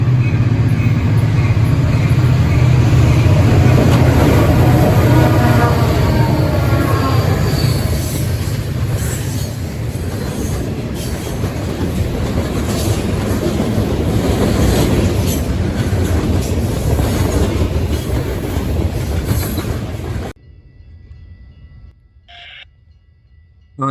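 A night freight train led by three SD40-2 locomotives rumbles past close by, loud with heavy low droning, wheel clatter and squealing, then cuts off abruptly near the end.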